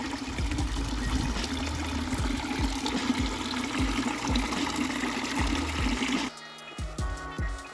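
Water runs steadily into a homemade tub, a continuous splashing gush with bubbling trickles, before the flow abruptly drops to a quieter, thinner trickle near the end.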